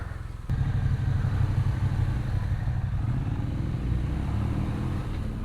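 A motorcycle engine starts with a sharp catch and then settles into a steady, smooth idle that keeps running, fairly close and moderately loud, with a slight rise near the end and no talk.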